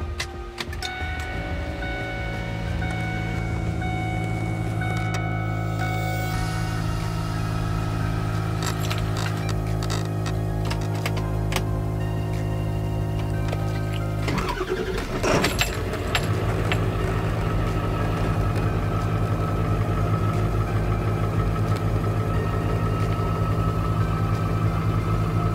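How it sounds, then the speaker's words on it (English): A 2001 Ford Powerstroke diesel pickup truck engine with a fresh air intake cranks and catches, then settles into a steady, rumbling idle that runs continuously, with a brief rough surge partway through. "So now to start it up and see how it sounds."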